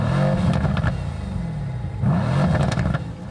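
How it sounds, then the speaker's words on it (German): A Mercedes-AMG C 63 S V8 revs in two sharp throttle blips, each rising in pitch then falling back toward idle, loud and close with no speech. "Gasstöße gleichen einem satten Schnurren."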